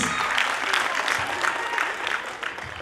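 Audience applause at a dance academy's annual function, steady dense clapping from a crowd filling the whole stretch at an even level.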